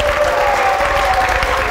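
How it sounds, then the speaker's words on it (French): Studio audience applauding on a French-language TV variety show, a steady, dense wash of clapping that holds evenly for the whole stretch with no voices over it. "Merci de vous applaudir, public."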